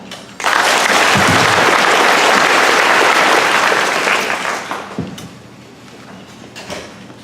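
Audience at a Board of Education candidate forum breaks into loud, sustained applause that starts abruptly, holds strong, then thins into scattered claps and a few thumps before fading.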